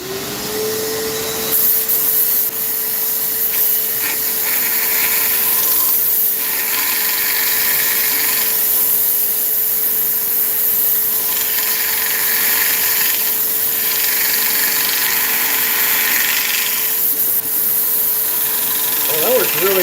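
A steady high whirring of a large sanding pad spinning on a wood lathe, sanding myrtle wood, runs continuously and loud throughout, with a constant hum beneath.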